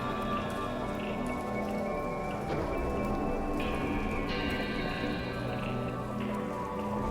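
Steady rain falls continuously, a dense hiss of drops on surfaces with scattered drips, unbroken and fairly loud throughout.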